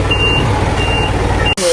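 Delivery truck reversing alarm, a loud steady high beep repeating in slow regular pulses close by over rumbling background noise, cutting off abruptly near the end.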